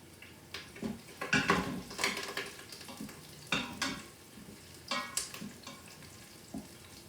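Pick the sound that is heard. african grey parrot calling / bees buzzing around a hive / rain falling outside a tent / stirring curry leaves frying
stirring curry leaves frying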